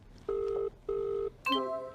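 Two evenly spaced electronic telephone rings for a call to a friend, each about half a second long with a short pause between them, then a brief pickup tone at the end, heard clearly without talk.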